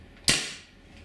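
A single sharp, percussive shot from a Scarab Arms TGR2 MK2 launcher firing normal-weight balls, close and fairly loud, with a quick snap and short fading tail.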